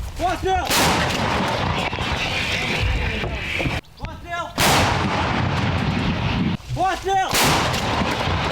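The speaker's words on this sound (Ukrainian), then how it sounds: "Ця обслуга гармати працює ще з радянськими гаубицями Д-30." Several loud, sharp artillery blasts from a Soviet-era D-30 howitzer, each booming with a long rolling echo, spaced a few seconds apart outdoors.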